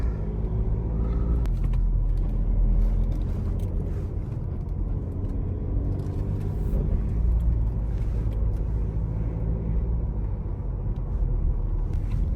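A 2014 VW Golf 1.6 with a DSG gearbox drives on the road, a steady low rumble of engine and tyres heard from inside the car throughout.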